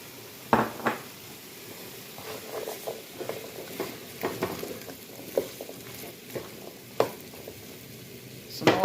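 Beans and vegetables sizzling in a frying pan, a soft steady hiss broken by scattered sharp pops and crackles and a few scraping stirs, heard up close with no talking.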